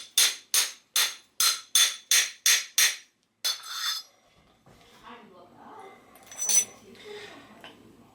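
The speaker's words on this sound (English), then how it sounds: "Then just with a hammer." Steel hammer strikes a Park Tool crown race setter seated over a bicycle fork while a new crown race is fitted, eight sharp evenly spaced ringing blows close by, then a brief scrape and soft workshop handling.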